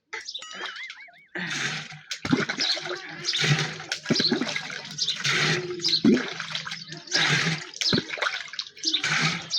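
Water splashes and gurgles into a milk can in several uneven pours, fairly close and loud, with no talking.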